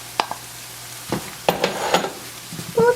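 Green chillies going into a beef stew pot with pinto beans: short bursts of sizzling and stirring clatter, a few sharp scrapes, close and fairly loud, no talking.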